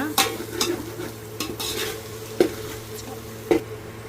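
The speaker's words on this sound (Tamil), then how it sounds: "ஸோ இந்த மாதிரி நல்லா வந்து கிளறி விட்டுக்கோங்க" Tomatoes being sautéed and stirred in a pan, with a soft steady sizzle under scattered scrapes and a couple of sharper spoon knocks against the metal, close up and moderately quiet, no voices.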